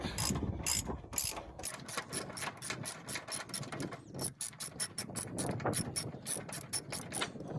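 A hand ratchet clicks in rapid, regular bursts while turning bolts on a cabover truck during a restoration. The bursts sound close, come in repeated runs with short pauses, and are heard alone with no talk.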